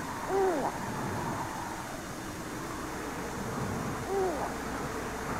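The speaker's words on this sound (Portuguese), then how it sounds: "As florestas próximas a Winnipeg, Canadá, proporcionam abrigo e alimento para a grande coruja cinza." A great grey owl hoots in a forest near Winnipeg, Canada, two soft calls a few seconds apart over a low, steady rumble of background noise.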